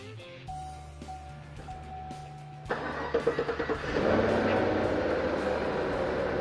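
A car engine fitted with an Edelbrock E-Force supercharger cranks with a quick series of pulses, then catches and settles into a loud, steady running roar after a quieter stretch of hum and faint clatter.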